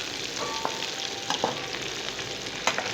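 Mixed vegetables, taro, okra and potato, frying in a pan in Sindhi style: a soft, steady sizzle with several sharp spoon scrapes and clinks as they are stirred, no talking.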